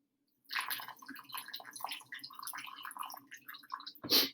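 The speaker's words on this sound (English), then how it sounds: "I am pouring water in a sand and clay mix." Water poured into a sand and clay mix for a landform model gives a continuous close bubbling, trickling splash with no voices, ending in a brief louder gush.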